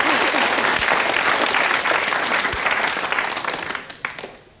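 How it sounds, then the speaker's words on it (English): A studio audience at a BBC quiz show applauds warmly, a dense sustained clapping that gradually tapers off toward the end. "I think this is going to deserve a round of applause."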